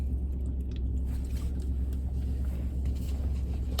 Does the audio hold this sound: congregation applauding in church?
no